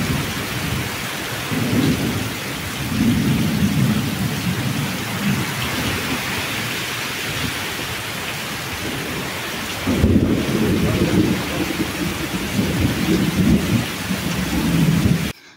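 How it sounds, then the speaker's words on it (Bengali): Heavy rain pours steadily outdoors during a storm, with deep rolling thunder rumbling loudly through most of the stretch and no voices. "বাইরে বৃষ্টি হচ্ছে, প্রচণ্ড হারে বৃষ্টি, তার সঙ্গে ঝড়, আবার বজ্রপাত।"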